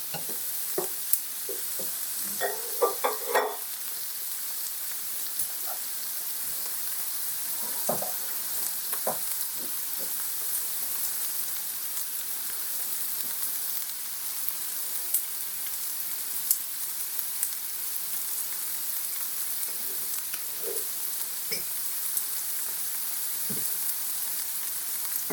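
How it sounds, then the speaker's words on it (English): Chopped red and green peppers sautéing in a pan, a steady hiss of frying with occasional stirring clicks and scrapes, close and continuous with no talk. "I'm going to add some peppers into this one, just red and green peppers that I've got chopped up, and I'm going to saute those"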